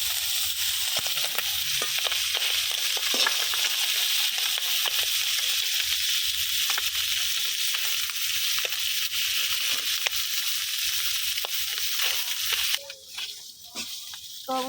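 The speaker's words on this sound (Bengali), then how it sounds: "আবারও ওই পিঠ উল্টে ভালোভাবে ভাজা নিব" Rohu fish sizzles and crackles steadily in hot oil as it is flipped over in the pan, a dense, close frying hiss that carries on without a break before it thins and changes near the end.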